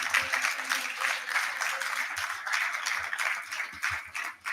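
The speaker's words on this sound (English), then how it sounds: "I think he deserves another round of applause" A conference audience at a housing show applauds after a speech, with dense, sustained clapping from a large crowd and a few louder claps nearby.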